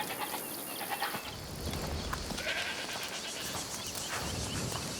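Goats bleating in the video game A Plague Tale: Requiem, repeated calls over a steady bed of ambient game sound and farm noise, no talking.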